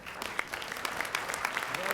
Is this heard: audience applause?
yes